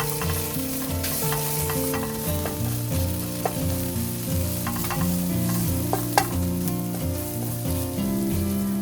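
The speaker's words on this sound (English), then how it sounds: "heat the oil in a pan and stir fry the minced garlic" Minced garlic stir-frying in hot oil in a pan, with a steady sizzle and repeated scraping stir strokes running the whole time, close and fairly loud, with no talking.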